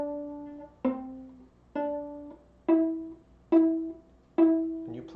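Viola strings plucked pizzicato in a slow line of six separate, evenly spaced notes opening Mary Had a Little Lamb, each with a sharp attack that fades quickly, played alone in a quiet room.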